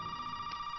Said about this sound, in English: Hello, phone call?